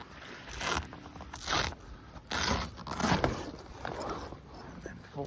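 A Jeep Wrangler TJ soft top's velcro strips are peeled apart in several short, rough tearing bursts with quiet pauses between them, heard close up.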